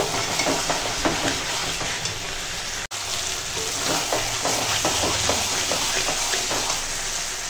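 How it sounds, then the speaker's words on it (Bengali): Mutton sizzles and crackles steadily in hot oil as it is stir-fried, with a dense, close frying hiss and occasional scraping of a utensil, no voices. "মাংসটা কষিয়ে একদম পুরো তেল ছেড়ে দিয়েছে"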